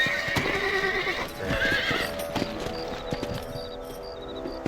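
A horse in the Red Dead Redemption video game whinnies loudly as a rider mounts, followed by steady clip-clop of hooves, with game ambience and faint chirps behind.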